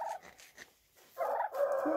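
A turkey gobbles in a barnyard setting, a few faint calls early on followed by a louder, rattling gobble burst near the end, with quieter gaps between.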